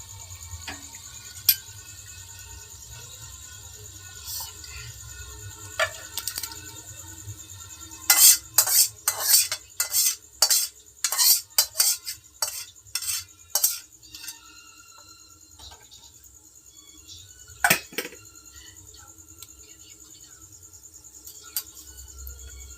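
A spoon scrapes and clinks in a pan of alur dum potato curry, a rapid burst of metallic taps in the middle, then a lone clink later, over a steady insect-like hum and faint kitchen noise.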